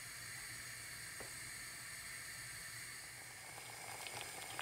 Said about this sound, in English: As you can see, this is now boiling.